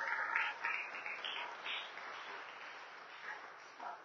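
A church congregation applauds during a worship service, a dense spread of clapping that starts loud and gradually thins out, heard somewhat distant through a narrow, muffled recording.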